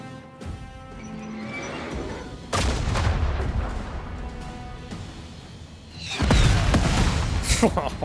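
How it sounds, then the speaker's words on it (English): Artillery strike explosions in the armored-train survival game Last Train Home, a series of heavy booms and crashing blasts, with a loud burst near the end, under occasional voices. "Artillery strike."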